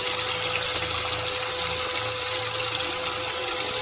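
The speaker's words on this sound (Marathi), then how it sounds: "या गोमुखातून सतत निरंतर पाणी चालू आहे" Water gushes steadily and without a break from a stone Gomukh cow-mouth spout at the Gupt Godavari shrine on the Narmada bank, a loud, even, close rushing roar with no talk over it.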